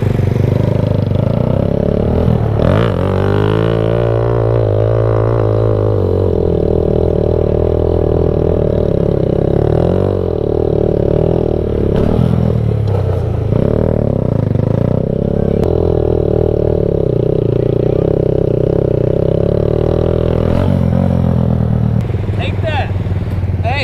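A motorcycle engine idles and revs unevenly for a long stretch, its steady rumble rising and falling, with people talking over it throughout.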